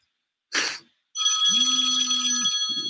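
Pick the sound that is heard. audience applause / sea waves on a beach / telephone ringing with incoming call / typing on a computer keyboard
telephone ringing with incoming call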